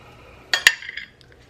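A knife slices a keto bagel in half on a kitchen surface, giving two sharp clinking cuts close by followed by a few fainter scrapes and taps, with no one talking.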